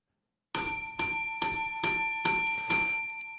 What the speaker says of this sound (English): Gotta bang that bell while I can right now.